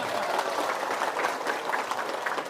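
Audience at an Indonesian community religious gathering applauding, a dense continuous clapping at moderate level that fills the whole moment without talk.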